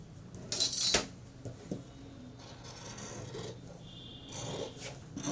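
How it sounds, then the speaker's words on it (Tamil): Scissors cutting fabric for puff sleeves: a few dry rasping snips and rubbing sounds, close and fairly faint, with a brief sharper burst near the start and no talking. "இப்போ இந்த கப்புக்கு இதை கட் பண்ணி எடுத்துடணும்."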